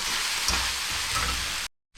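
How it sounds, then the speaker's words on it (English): Vegetables sizzle and fry in a pan while being stirred for a from-scratch pasta sauce, a steady close crackling hiss that cuts out abruptly near the end, then briefly returns. "I'm just going to kind of sizzle fry some of that in there and stir them around."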